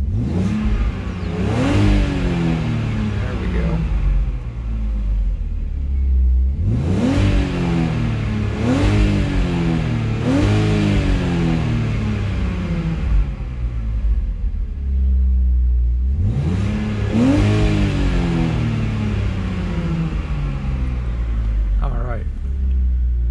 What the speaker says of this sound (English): let me see if I might kind of rev the engine a little bit just so you guys can enjoy that